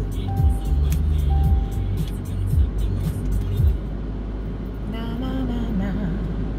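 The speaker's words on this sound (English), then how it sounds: "let me turn on this car because it's hot as I don't know what" A car engine is started and settles into a steady idle, a low rumble heard under someone talking and some background chatter.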